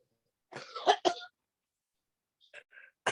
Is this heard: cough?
yes